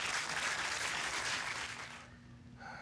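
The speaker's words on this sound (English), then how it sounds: "Everybody's clapping their hands right now" Steady wash of clapping from a church congregation during a Sunday morning service, continuous for about two seconds and then easing off into quieter room tone.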